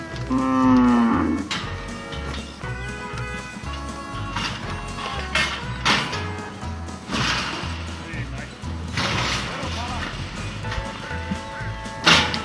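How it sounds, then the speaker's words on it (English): Cattle mooing loudly in a yard while being sorted near a train line at Fitzroy Crossing, several long lowing calls mixed with clanking metal gates and rattling, plus some background voices. "While over there they're sorting the cattle."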